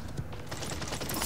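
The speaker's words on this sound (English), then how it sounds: "Enemies are firing on me!" Rapid gunfire bursts in the online shooter game Paladins, crackling fairly steadily at moderate loudness with dense clattering in the mix.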